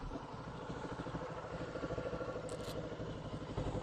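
A Kawasaki Ninja 650 motorcycle engine runs after starting, a steady rapid pulsing idle throughout, close and continuous, with no talking.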